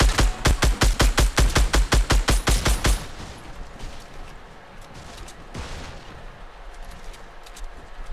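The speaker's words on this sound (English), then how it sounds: "He's got a shotgun." Shotgun fire in the video game Fortnite, a rapid run of loud, evenly spaced blasts for about three seconds, then a lower rumble of game ambience with one more distant boom.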